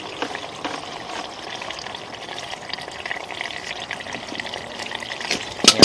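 Water runs steadily during a sewer line cleaning, a continuous broadband hiss and splash with small sloshes and a sharper burst at the end, close and fairly loud.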